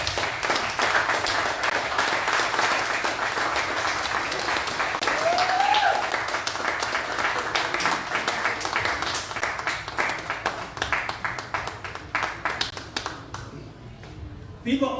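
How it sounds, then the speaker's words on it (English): An audience at a community radio station's tenth-anniversary event breaks into sustained applause, a dense wash of clapping that carries on steadily and fades slightly toward the end, with occasional voices mixed in. "please give him a round of applause"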